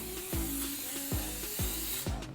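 Cooking spray hissing in short bursts onto a hot waffle maker, four quick sprays with clicks between them, close and alone.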